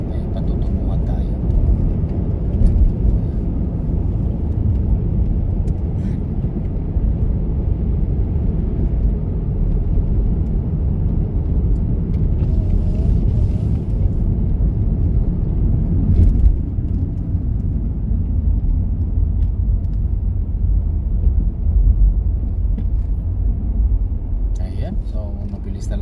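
Fast cars passing on a frozen winter road in about -31 degree cold in Canada, heard as a continuous loud low rumble of traffic with swells as vehicles go by, under quiet talk.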